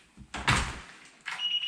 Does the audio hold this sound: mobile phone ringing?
no